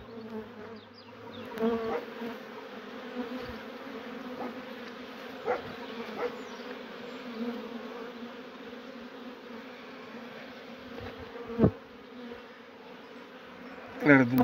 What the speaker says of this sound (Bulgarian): все още живи пчели.